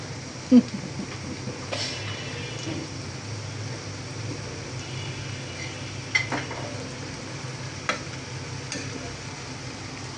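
Spiced onion mixture with taro being sautéed in a pan, a low soft sizzle with occasional scraping stirs and a sharp clink, quiet and close with no talk.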